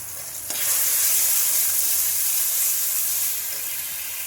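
A ginger, garlic and dried chili paste hits hot oil and sizzles loudly after a brief quiet start, then keeps up a steady bright hiss that eases slightly toward the end.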